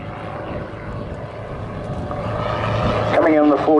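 A display aircraft flies at the Southport Air Show 2022, its steady engine drone swelling louder as it passes, while a commentator talks over it.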